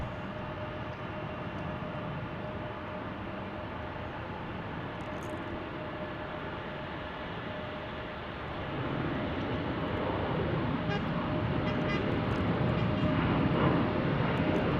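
Airbus A321 spooling up and rolling for takeoff at Salt Lake City airport, a broad jet roar heard from a distance that swells noticeably partway through and stays loud, with no talk.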